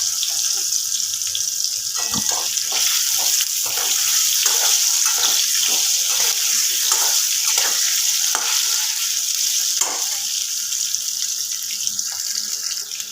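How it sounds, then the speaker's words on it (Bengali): Potatoes frying in hot oil with a little turmeric in a kadai while preparing a soybean muitha, a steady close sizzle broken by scattered crackles and pops, with no talk. "এবার এই তেলের মধ্যেই আমি আলুটা ভেজে নেব।"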